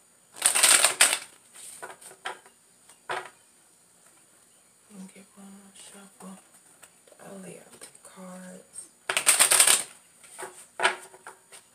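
Tarot cards are shuffled in two brisk riffling bursts, with a voice murmuring softly in between.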